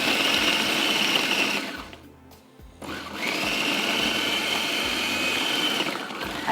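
An electric chopper whirs loudly, grinding ingredients for honey beef noodles, with a steady high motor drone that stops for about a second and then starts again for a second long run.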